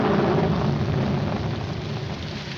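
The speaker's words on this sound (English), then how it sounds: "It's going to rain." Steady heavy rain pours down with a broad, continuous hiss in a 1940s film scene, loud and unbroken throughout, slowly easing slightly toward the end with no voices.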